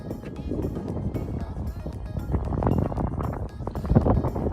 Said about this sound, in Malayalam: നല്ല അടിപൊളി കാറ്റാണ്